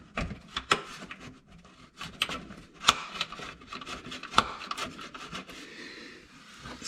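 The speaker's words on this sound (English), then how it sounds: "Then I want to put your skid plate back on." A skid plate is fitted back onto the underside of a 2001 Toyota MR2 Spyder, with scraping, rubbing and sharp knocking clatters at an uneven rhythm, fairly close and quiet.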